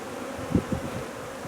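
Honey bees at a hive returning with pollen, a soft low buzzing with two brief louder swells of nearby bees over a steady faint hum.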